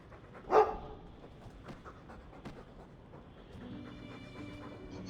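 A dog in the video game Dragon Age II gives a short burst of panting and snuffling, then soft background game ambience continues.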